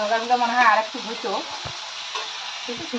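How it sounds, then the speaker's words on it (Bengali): Brinjal slices fry in a pan with a steady, close sizzle and light stirring, while voices talk briefly over it at the start and near the end. "চলো তাড়াতাড়ি বেগুন ভাজাটা করে নেই"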